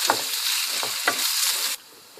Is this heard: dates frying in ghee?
yes